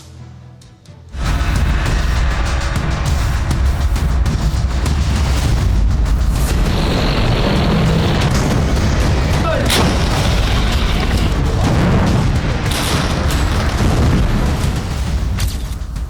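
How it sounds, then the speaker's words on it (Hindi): Heavy booming artillery blasts roll through continuously, loud and reverberant, cannon fire echoing among hills after a brief quiet start. "पहाड़ियों के बीच बारूद बरसाने वाली तोप गुर्रा रही है।"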